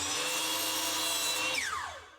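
A miter saw slices through a 1 1/4 inch wooden dowel, with a steady, loud, close whine running about one and a half seconds before the blade winds down and fades away.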